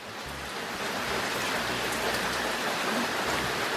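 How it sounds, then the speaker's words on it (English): Rain falls steadily outdoors during cooking, a continuous dense hiss of drops hitting surfaces that stays even and fairly close, with no speech. "I love working in the rain"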